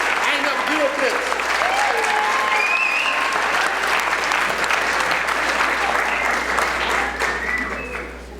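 Graduation ceremony audience giving loud, sustained applause in a large hall, dense clapping with crowd voices and cheers throughout, tapering off at the end.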